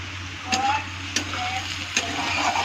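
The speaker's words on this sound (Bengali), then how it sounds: "একটু ভালো করে মিক্স করলাম চিনিটাতে" A spoon stirs vegetable pulao with a spoonful of sugar frying in a pan, giving a steady close sizzle broken by three brief scraping strokes.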